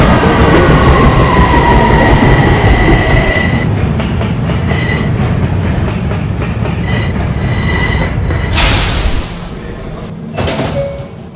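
An R subway train runs loudly with a steady rumble and screech of wheels on rails, and an onboard announcement voice speaks over the noise before a brief hiss near the end.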